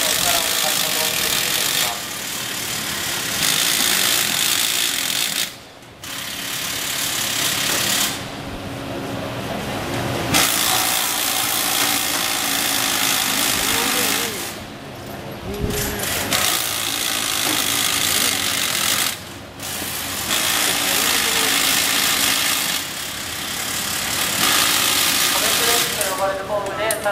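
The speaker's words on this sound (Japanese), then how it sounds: "先ほど手で回収したボルトを空気の力を使って戻していきます。" A pneumatic air-powered torque tool refastens bolts on a train bogie in a JR Tokyo rail car maintenance depot, roaring loudly and continuously with a few brief pauses while someone speaks over it.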